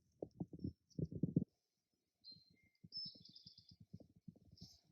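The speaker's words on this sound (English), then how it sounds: "I hear a bird behind me. It's called an eastern Tohi." Quiet outdoor scene with bursts of low, rhythmic rustling or scratching and a few thin, high chirps from an eastern towhee nearby.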